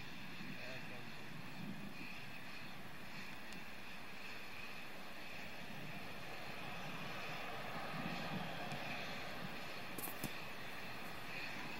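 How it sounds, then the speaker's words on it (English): Space shuttle Discovery's three main engines powering the second stage after booster separation, heard as a steady, distant broadband roar with a hissy edge that stays constant throughout, faint and noisy like a far-off broadcast feed. "Discovery's three engines now powering the second stage."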